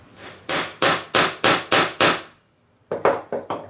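Close, loud hammer blows on a wooden part of a traditional Chinese half moon marking gauge, six steady evenly spaced strikes, a short pause, then three quicker hits.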